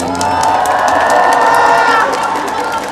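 A baseball stadium crowd at an NC versus Doosan game in Jamsil cheers and applauds during an on-field award ceremony, a sustained loud wash of voices and clapping swelling and fading over a few seconds.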